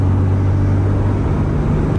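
A Ford Super Duty truck engine pulls hard at full throttle up a hill in third gear, a steady loud low drone with a strong rumbling hum that holds level throughout, no talking over it.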